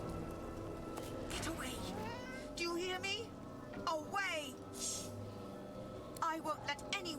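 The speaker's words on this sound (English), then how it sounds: "I love this cat." A cat in the fantasy role-playing game Divinity: Original Sin 2 gives a series of meows and rising yowls, some short and some drawn out, over quiet game ambience with a voice speaking at times.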